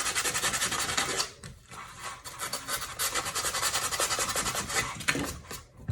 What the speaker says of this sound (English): And then when I sand the front